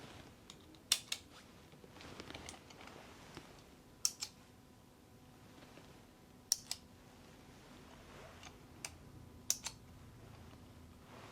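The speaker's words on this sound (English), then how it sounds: "I have another tool here that's going to produce a clicking sound" A clicking tool used during a clinical hearing test gives off sharp, separate clicks in small pairs and groups, spaced out over quiet, close and crisp with no talking.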